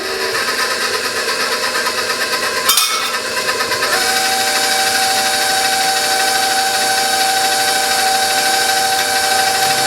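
An electric mixer whirs steadily through cake batter as all-purpose flour is beaten in for an Italian lemon ricotta bundt cake, a loud continuous buzzing whine with a brief clatter partway through, after which the motor settles into an even drone.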